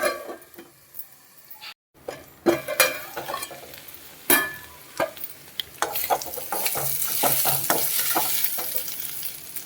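Ivy gourd (dondakaya) frying in a pan and stirred now and then; close, sharp spatula scrapes and clicks against the pan over a sizzle that grows louder and denser toward the end.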